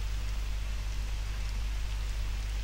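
Steady, unbroken rainfall in a Japanese dating-sim video game set near a children's park, a dense even hiss with a low droning hum beneath and no other sounds.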